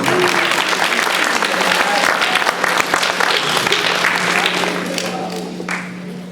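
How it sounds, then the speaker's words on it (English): A comedy show audience gives a performer a big round of applause, a loud, dense wash of clapping that holds steady and then thins out and fades near the end. "Big round of applause for Mr. Slavins."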